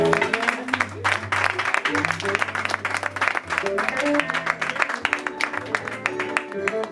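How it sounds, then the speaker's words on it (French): A church congregation at a consecration service applauds and cheers to acclaim the Lord, sustained loud clapping with music playing underneath and voices mixed in. "est-ce qu'on peut acclamer le Seigneur pour sa grâce?"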